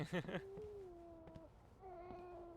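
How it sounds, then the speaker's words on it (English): A squeaky cat meows in the video game We Happy Few, two drawn-out mews with a short pause between, heard after a burst of a voice and fairly faint in the mix. "the cat's a little bit squeaky"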